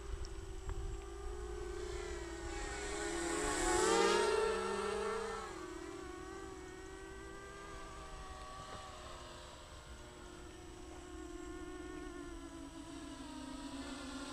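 A Hyperion Vengeance 280 FPV racing drone on a 3S battery whines and shifts pitch in flight, swelling louder for a moment as it passes close, then settles into a steadier, quieter drone.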